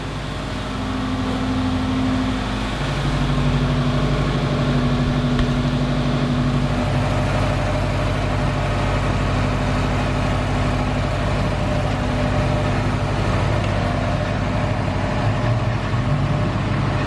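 A Subaru STI engine, rebuilt after flood and fire damage, idles steadily at close range with a constant low rumble and a faint tonal hum, and no one speaks over it.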